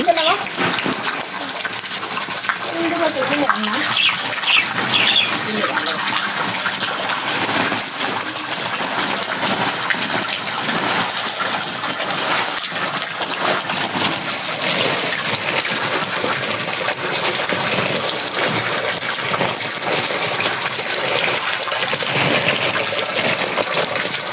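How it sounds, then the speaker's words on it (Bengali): Water gushes steadily and loudly into a container to soak harvested rice paddy overnight before boiling, a continuous rushing pour that fills the whole stretch, with faint speech in the background. "সবগুলো ধান এখন এখানে ভিজানো হবে কালকে সিদ্ধ করবে রাতের বেলা"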